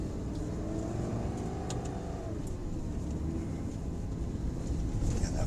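A Ferrari supercar accelerating on a circuit, its engine a steady loud drone heard from inside, with a rising then easing pitch over several seconds and no talking.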